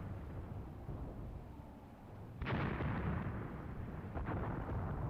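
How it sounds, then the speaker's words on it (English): Artillery barrage in the war game Graviteam Tactics: Mius Front, a deep distant rumble of shelling with a sharp blast landing midway and another burst soon after, no voices. "I did call in a proper artillery barrage on the slopes of Hill 68"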